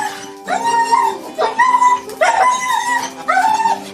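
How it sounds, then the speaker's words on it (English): A dog whimpers and yips excitedly on being reunited with its owner after months apart, a run of four or five high, wavering whining cries with short breaks between them, close and loud, with no talking. "this dog makes a very odd series of sounds."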